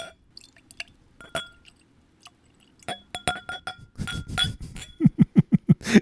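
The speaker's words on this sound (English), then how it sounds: "got to get the glass noises in there" Glass clinks and small liquid splashes, then a run of rapid, evenly spaced glugs as whisky pours into a glass, close and clear.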